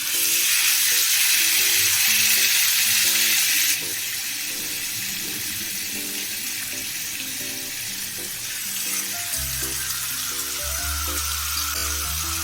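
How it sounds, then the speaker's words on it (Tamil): Tandoori chicken pieces frying on low heat in hot oil and butter, a steady bright sizzle running throughout, fairly loud and close with no talking. "சிம்மில் வச்சு தான் நம்ம இதை ஃப்ரை பண்ணணும்."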